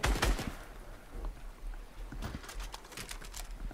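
Rapid bursts of gunfire in the video game Fortnite crackle at the start and again near the end, with quieter rumbling in between.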